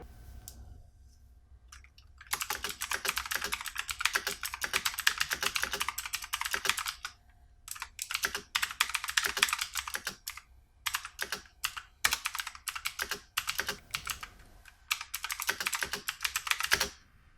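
Fast clicky typing on a cheap mechanical keyboard with backlighting, dense bursts of sharp key clacks in quick runs separated by brief pauses, close and alone.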